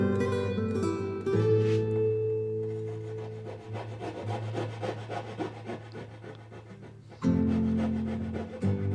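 Hand-cut dovetail joinery in wood, with a chisel paring the waste to the line in small bites; steady rubbing, scraping strokes run continuously, with louder passages at the start and near the end.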